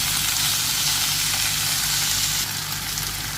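Onions and mutton frying in a pan for samosa filling give a steady, close, loud sizzle that runs unbroken throughout, easing slightly near the end.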